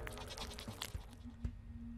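Goat bleating in the horror video game Sally Face, a short faint bleat over a low humming ambient drone with a few soft knocks.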